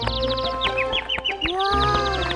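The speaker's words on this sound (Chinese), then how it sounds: "我看到小鸟了，它刚刚睡醒了，正在唱歌呢，你们听。" Cartoon songbird chirping brightly after waking, a run of quick, rising whistled notes over a steady soft musical backing, close and clear for a couple of seconds.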